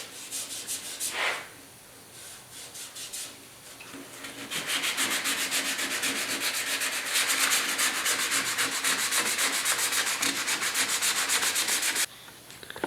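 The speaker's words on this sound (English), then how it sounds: "And it's way easier to sand." Red glaze filler is sanded on the tailgate of a 1972 Ford pickup, giving a close, continuous rough rasp that starts with a few separate strokes and then settles into a fast, steady back-and-forth scrub lasting several seconds.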